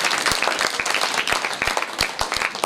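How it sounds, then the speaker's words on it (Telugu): An audience at a school event marking a Rotary Club toilet donation claps firmly and fairly close, with distinct individual claps standing out from the steady applause. "వారికి మన అందరి తరఫున గట్టిగా ఒకసారి చప్పట్లతో"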